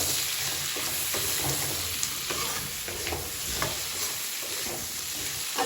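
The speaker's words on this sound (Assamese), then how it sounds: "এইয়া ভাজিম আলু বিলাহী মাছ" Potatoes, tomatoes and fish fry in a pan with a steady, close, crackling sizzle, broken by occasional scraping stirs, and no voices.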